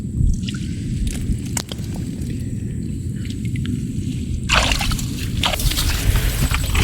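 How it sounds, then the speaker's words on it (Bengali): Wet mud and water slosh and squish near at hand as a small muddy pit by a riverbank is bailed out for shrimp, with a sharper, brighter splash of water coming in partway through. "দর্শক নতুন করে আরেকটি কুয়া সেচ দেওয়া হইতেছে"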